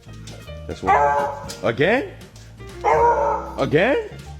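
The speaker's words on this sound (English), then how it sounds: "Don't bark at me, alright?" A dog barks and whines in a few loud, close bursts with drawn-out yelping tones, while someone talks to it over the top.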